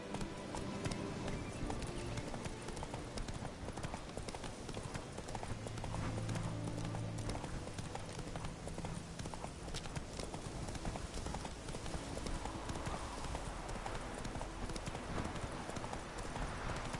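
Hooves of a horse in The Witcher 3 video game clatter in a fast, continuous galloping rhythm, steady and fairly loud amid game ambience throughout.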